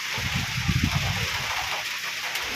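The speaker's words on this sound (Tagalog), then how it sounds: "walang tigil ang ulan" Rain pours without a break on a rural farm during a spell of flooding, a steady broadband hiss with some heavier splashing near the start and no talking.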